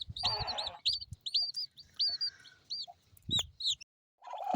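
Two brooding hens sitting on a nest with newly hatched chicks give soft, repeated clucks and short murmurs close by, in uneven bursts broken by brief pauses, with faint high chirps overhead.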